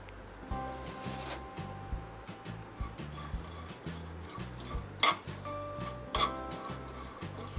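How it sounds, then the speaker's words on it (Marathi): Whole spices including cinnamon are dry-roasted lightly in a pan for garam masala, giving soft scraping and clinking of a spoon against metal in steady stirring strokes, with a few sharper knocks. "हलकंसं भाजून घ्यायचं आहे।"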